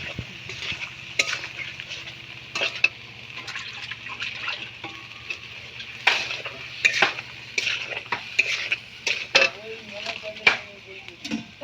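Fish is being mixed by hand with chili and salt in a bowl, giving repeated wet squelches, sloshing, and scattered clinks of metal utensils against a dish, close and intermittent with a low background hum.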